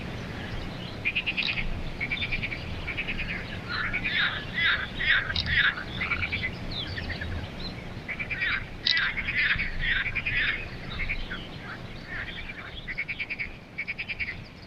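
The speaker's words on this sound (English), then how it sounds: "there's some bird over there making a load of noise." A bird near a lake in a Bulgarian countryside setting calls loudly in repeated rapid chattering bursts, clusters of harsh notes coming every second or so with short gaps, over a faint low background murmur.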